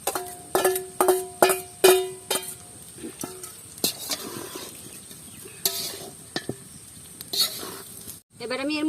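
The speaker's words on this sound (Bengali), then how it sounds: "এবার আমি এর মধ্যে বিনসগুলো ঢেলে দিলাম, সঙ্গে এই গাজরগুলো" Beans and carrots tipped into a hot pan for fried rice, with several sharp clattering pours and stirring hits in the first seconds, then lighter scraping and occasional knocks over a soft sizzle.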